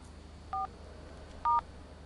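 Two short telephone keypad dialing tones beep a second apart over a quiet indoor background, with no speech.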